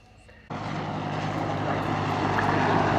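A helicopter with its engine mounted in the nose runs up at the Yeovilton Air Day 2017 airshow, a loud engine and rotor drone that starts abruptly and then holds steady, growing slightly louder.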